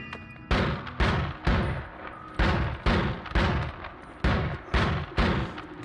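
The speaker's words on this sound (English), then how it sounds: "This is a shotgun wand. I'll try the shotgun wand." Shotgun wand fired repeatedly in the game Noita: about nine loud, booming blasts at a steady rhythm, each with a sharp attack and a short rumbling tail, heard alone without talk.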